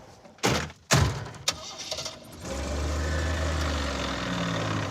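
An AMC Pacer modified for off-road use on a road trip makes a couple of loud thumps and clunks, then settles into a steady, close mid-range engine drone while driving.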